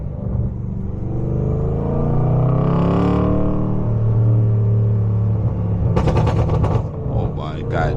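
BMW M550 turbo engine revving in sport mode, a loud sustained engine drone building and holding, then a burst of rapid crackling pops near the end, with voices talking over it.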